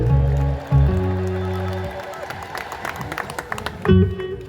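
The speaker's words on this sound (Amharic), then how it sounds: "አመስግኑልን እልል በሉና ሁላችሁ" A congregation applauds and ululates at the close of a sermon: sustained, high trilling voices at the start give way to a steady wash of clapping, then a brief renewed burst of ululation near the end.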